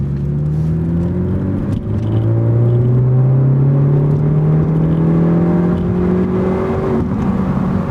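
A stock 2018 Ford Focus ST revs up on a race track, the engine note climbing steadily through a gear and then rising again, loud and close from inside the car.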